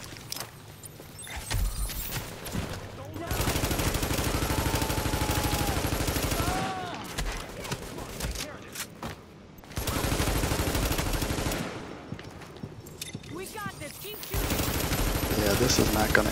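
Rapid bursts of automatic gunfire come from the online shooter game The Division, with dense, sustained rattling volleys broken by short pauses and some mechanical clinks. A player's voice can be heard speaking over parts of it.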